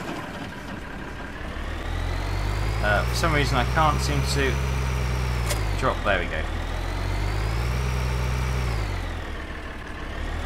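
A tractor engine in Farming Simulator 2013 idles and runs steadily with a low, droning rumble whose pitch rises and falls slightly, while someone talks over it briefly.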